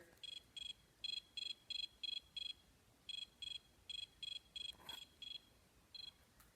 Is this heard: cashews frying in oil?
no